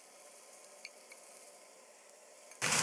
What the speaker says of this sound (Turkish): Etleri yıkamıyoruz. Direktman paketten içine atıyoruz.